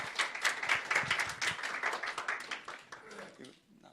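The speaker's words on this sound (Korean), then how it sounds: "하나님께 영광의 박수." A church congregation claps in praise during a Sunday service, a quick bright burst of hand claps that swells and then tapers away near the end, fairly faint.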